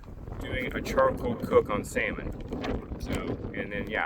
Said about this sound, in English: sorry for the wind blowing the camera around